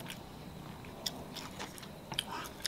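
Close, quiet chewing and biting on braised spicy pig trotters cooked with soybeans, with a few soft crunchy bites and wet smacks over a faint background.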